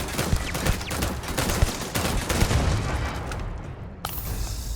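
Gunfire from a scoped weapon in the video game Starfield, with rapid, dense shots and booming impacts in a sustained burst that breaks off abruptly near the end, no talk over it.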